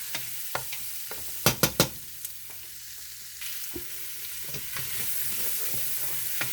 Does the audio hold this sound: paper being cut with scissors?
no